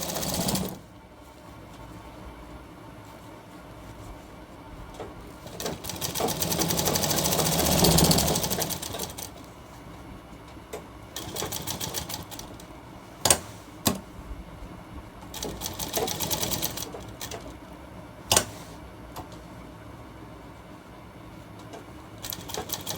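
A sewing machine runs in short and longer bursts while stitching onto a shirt cuff, with a loud sustained run near the middle and quieter pauses between.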